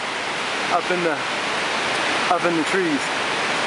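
Cane Creek Falls at Fall Creek Falls State Park rushes in a steady, loud, broadband roar throughout, with people talking over the falling water.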